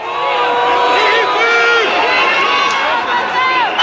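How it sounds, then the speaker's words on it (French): A large crowd of 500 to 600 people massed outside the Brussels courthouse boos, whistles and shouts in a dense, sustained roar, with shrill whistles rising and falling throughout and no pause. "Huées, sifflements, cris de haine,"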